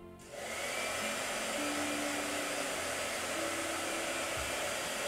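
A blow dryer starts with a click, then runs as a steady, loud, continuous whooshing roar with a faint motor whine, unchanging for several seconds.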